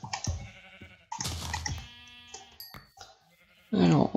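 Sheep bleat in the Minecraft video game, several short nasal bleats spread through the clip with the last one loud and close, with game sound effects in between.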